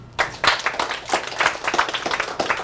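An audience at a live comedy show bursts into applause after a brief silence, a dense, close burst of clapping that holds steady for about two and a half seconds.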